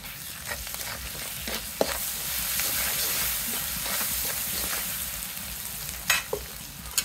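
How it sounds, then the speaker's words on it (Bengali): Spices fried and stirred in a pan for a fish and bottle gourd curry give a constant close sizzle and hiss, with scraping stir strokes and a few sharp clinks of the utensil on the pan. "মশলা কষানো শেষ, এখন আমি মাছ দিয়ে দিব।"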